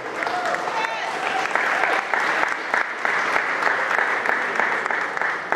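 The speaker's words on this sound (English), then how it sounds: "go ahead, clap for them, of course" A crowd claps for two Make-A-Wish children at a Make-A-Wish Foundation event, a thick, continuous burst of applause with some louder close claps, while a voice speaks briefly early on.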